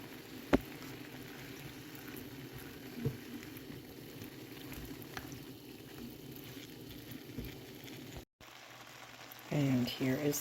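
A homemade sauce of noodle seasoning packet, brown sugar, soy sauce and oil cooks in a pan with a faint, steady bubbling simmer, a few light clicks and knocks, and brief talk near the end.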